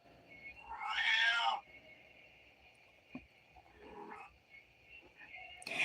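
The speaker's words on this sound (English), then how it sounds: "oh, quiet, little cat. I hear you." A cat gives one loud, drawn-out meow in a quiet indoor room, followed by a softer, shorter mew and a final rising cry cut off at the end; no one speaks.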